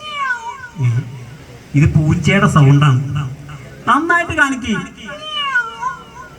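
A voice tries to imitate a tiger's roar but sounds like a cat, making several drawn-out meowing cries close up, with adults talking in between.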